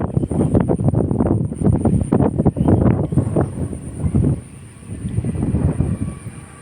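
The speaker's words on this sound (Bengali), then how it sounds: "প্রচণ্ড ঝড় বাতাস, প্রচণ্ড ঝড় হচ্ছে আমাদের এখানে।" Strong stormy wind blows in gusts past the front of a house by the road after the rain has stopped, a loud, uneven roar that surges and dips.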